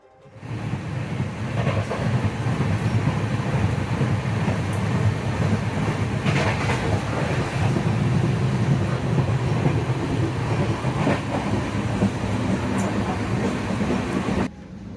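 Inside an AC coach of the Mangala Lakshadweep Express, the train's steady rumble and rail noise carries on continuously at moderate level, with faint clicks and no talking.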